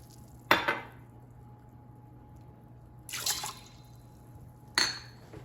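Water is poured into an Instant Pot in three short, splashing bursts spaced a couple of seconds apart, close and fairly quiet, with no voices.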